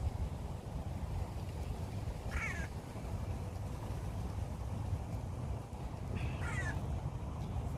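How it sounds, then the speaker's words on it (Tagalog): Two brief chirping bird calls ring out a few seconds apart over a low, steady background hum, outdoors in Israel. "May mga ibon-ibon pa"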